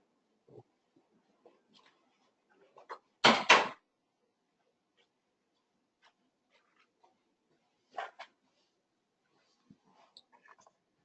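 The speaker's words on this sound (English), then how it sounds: "Let me close this door if somebody's making copies." A door in a lecture room swings shut with a sharp double thud, a clear knock-and-latch, followed by another smaller bump a few seconds later amid faint scattered room noises.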